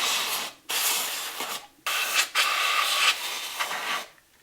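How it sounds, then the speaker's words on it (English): Compressed air blasts into a cuckoo clock to blow dust out of the works, a loud hissing rush in several bursts of about one second each, with brief gaps between them. "we're going to blow it out with this air"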